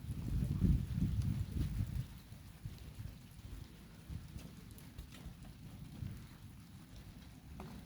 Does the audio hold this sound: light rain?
yes